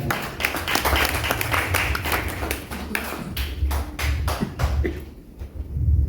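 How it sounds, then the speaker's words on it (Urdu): Audience clapping at an Urdu poetry book ceremony in Griesheim, Frankfurt, with scattered individual claps over a low background murmur, moderately loud and fading slightly near the end. "آپ کی بھرپور تالیوں کے ساتھ"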